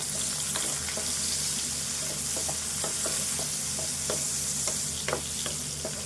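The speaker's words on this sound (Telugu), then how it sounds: "ఇప్పుడు కొంచెము కలుపుకుందాం" Turmeric being stirred into goat liver curry in a pan, a steady sizzle of frying beneath repeated light scrapes and taps of a spoon against the pan, close and continuous, no voices.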